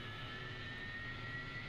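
AV-8B Harrier jet engine spooling up in DCS World, a steady whining roar with a high sustained tone, even and unbroken throughout.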